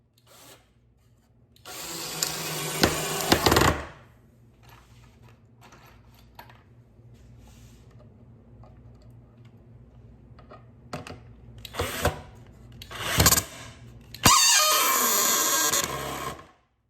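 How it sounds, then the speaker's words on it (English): Wood squeals and creaks in bursts while mortar racks are being built, with a long loud stretch early on, a few short sharp squeaks later, and a second sustained grinding squeal near the end, no talking. "that wood squeal"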